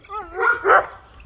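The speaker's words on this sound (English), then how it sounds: "They're good dogs." A few close, loud dog barks on a hiking trail, two or three yelps in quick succession with no talk over them.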